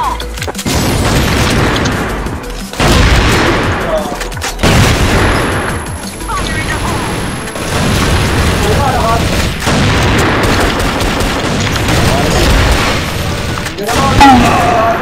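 A grenade explosion among bursts of gunfire in the CrossFire shooter game, loud repeated booms and rattling shots through the whole stretch, with occasional voices mixed in.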